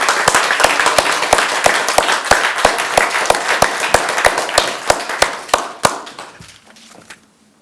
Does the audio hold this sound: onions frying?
no